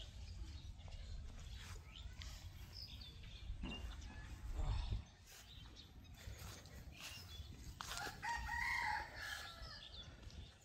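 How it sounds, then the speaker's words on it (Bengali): A rooster crows at a distance on a quiet winter morning beneath an old banyan tree, faint amid wind and rustling outdoor ambience, with other birds calling softly. "মোরগ, ওদের ডাকে সকালে ঘুম ভাঙে।"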